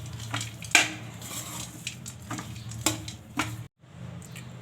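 A spoon scrapes and taps in a pan as chopped dry fruits are mixed into warm mawa for gujiya filling, with a few sharp clinks among quieter stirring and one brief pause.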